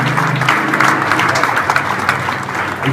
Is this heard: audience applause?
yes